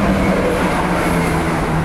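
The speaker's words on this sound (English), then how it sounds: "Train." Train crossing a railway bridge over a canal near Lapworth Junction, heard from a boat moored almost underneath. A loud, steady rumble and rattle fills the whole stretch, with no talking.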